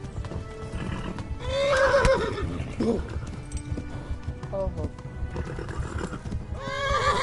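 Horse galloping with rapid clip-clop hoofbeats and loud neighs in the medieval video game Kingdom Come: Deliverance, the hooves steady throughout under a man's occasional exclamations.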